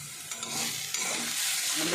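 Banana stem (thor) frying with a slit green chilli in a pan on low heat, a steady close sizzle with light stirring scrapes throughout, no voices.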